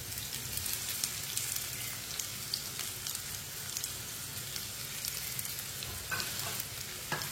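Finely chopped tinda and onion frying together in a pan, a dense, steady sizzle like light rain with faint occasional stirring ticks, close and continuous with no talking.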